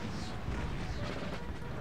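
Dense, continuous rumble of battlefield cannon fire and distant booms in Empire Total War, a thick wash of low roaring noise without distinct separate shots.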